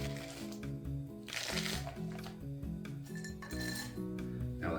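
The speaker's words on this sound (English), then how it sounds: "And now to both, we're going to be adding a small scoop of ice" Ice is scooped into two cocktail glasses, giving clinking and rattling cubes with crinkly scraping over steady background music, close and moderately loud.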